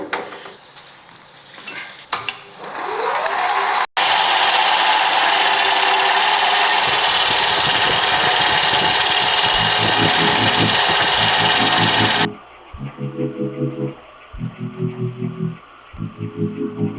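A metal lathe takes a fine facing cut on a revolver-drum-shaped pencil holder: a loud, steady whirring drone with cutting noise, then a lower, pulsing mechanical hum in repeated surges near the end.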